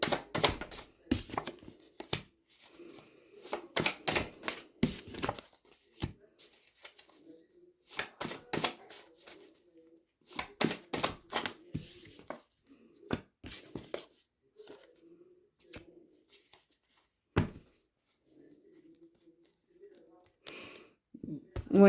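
Tarot cards shuffled and dealt out for a sentimental cartomancy reading, giving a series of quick crisp riffles, flicks and taps in bursts with pauses, close by, while a voice speaks intermittently between them.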